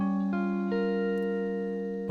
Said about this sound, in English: Minor 7 chord with a flat 5.